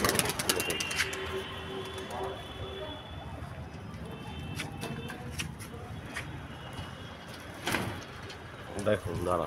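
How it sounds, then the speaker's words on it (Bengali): Two pigeons are handled and released outdoors, cooing and making brief flutters and clattering knocks while a person talks over them. "দেখুন এই পায়রা দুটো এখন ছাড়ছি আপনাদের সামনেই, অন ক্যামেরায় ছাড়বো"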